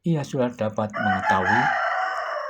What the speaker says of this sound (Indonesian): Saat itu terdengar kokokan ayam di belakang Banjar